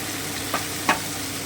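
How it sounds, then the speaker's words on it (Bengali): Vegetables with turmeric and Kashmiri chili powder fry in a pan under a steady sizzle, with two brief spoon strokes stirring them close up. "এবার আমি এক থেকে দু মিনিট খুব ভালো করে একটু ভেজে নিচ্ছি"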